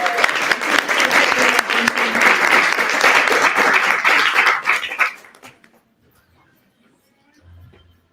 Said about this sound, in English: Let's give all the red jackets a round of applause.